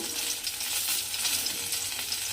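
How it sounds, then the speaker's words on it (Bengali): Halved medium eggplant pieces fry in hot oil, giving a steady, close, hissing sizzle with faint crackles and no voices. "সেইগুলো আমি ভেজে তুলে রেখে দেব"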